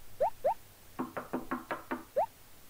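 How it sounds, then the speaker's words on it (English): Knocking on a window in a video game: two short sliding thumps, then a quick run of six firm knocks, followed by one more thump, all close and clear over a quiet background. "When there's someone knocking on the window and not on the door, that's always a good sign."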